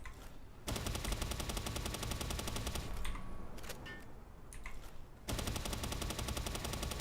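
Rapid, continuous gunfire in a video game, loud and close, running for most of the stretch with a short drop to quieter battle noise in the middle before the firing resumes; no talking.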